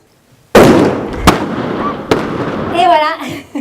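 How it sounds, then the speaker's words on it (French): Bomb disposal team's controlled mine detonation at a demining demonstration in Nice: a sudden loud outdoor blast with long rumbling decay, two sharper cracks following, and a crowd's voices rising afterward. "La mine a explosé."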